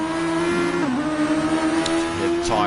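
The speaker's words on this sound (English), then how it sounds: "Hear the tyres squeal of Big Les Kun behind." A radio-controlled Super Formula race car whines through a chicane on a small outdoor track, its motor pitch dipping then climbing again, with brief sharp tyre squeals near the end and faint commentary underneath.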